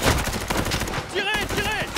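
Rapid gunfire bursts from an action film battle scene, sharp cracks in quick succession close up, mixed with shouting voices and whistling effects.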